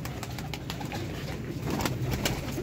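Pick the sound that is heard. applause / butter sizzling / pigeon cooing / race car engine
pigeon cooing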